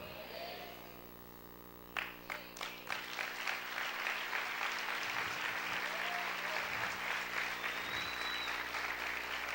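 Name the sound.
applause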